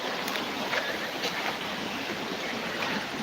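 Water rushes at full force in a continuous, broadband roar, loud and close with no pauses, a voice briefly audible beneath it.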